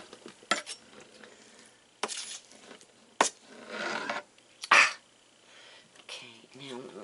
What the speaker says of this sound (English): I'm going to put this into my crock pot. All this meat's going to go in here.